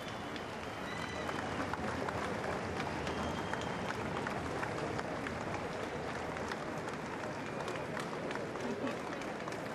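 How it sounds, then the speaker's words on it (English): Large crowds lining the street clap as the Queen's coffin procession passes in Edinburgh, a distant, diffuse wash of steady applause that holds evenly throughout. "plenty of clapping"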